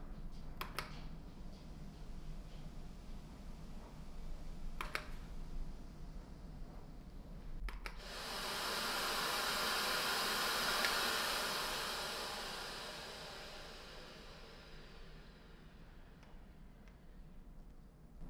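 An MD SilentMaster S900 central vacuum runs in a living room, its soft steady whoosh of rushing air rising after a few clicks and holding for several seconds before fading, over a low background hum.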